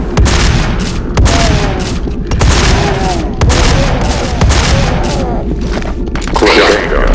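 Several loud, booming shotgun blasts in a video game fire at a steady pace, each with a sharp crack and rumbling tail, over a continuous low background din.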